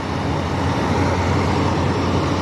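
A bus at Tehran's south terminal rumbles loudly and steadily nearby, its low engine drone blending with surrounding roadway noise, with no voices.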